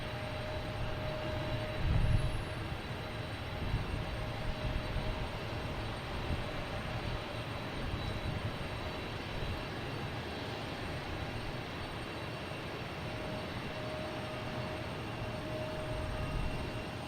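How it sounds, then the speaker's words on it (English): An Iberia Airbus A321neo arriving from Madrid at Boston Logan, a steady low jet roar with a faint high whine, holding fairly even throughout at moderate distance amid outdoor airport ambience. "here is Iberia. Coming in from Madrid, A321neo"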